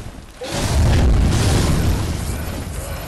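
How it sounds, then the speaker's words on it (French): A loud, deep explosion booms in the video game Bloodborne, a sudden heavy blast that swells and then rumbles on for a few seconds with no talk over it. "Pourquoi j'ai fait une explosion de la mort qui a rien fait du tout au final?"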